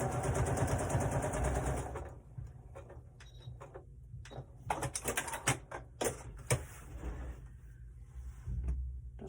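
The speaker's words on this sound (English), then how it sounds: "I'm just going to sew across there." A sewing machine runs close and loud stitching a fabric door stop, stops for a stretch of clicks and handling sounds, then whirs again at the end.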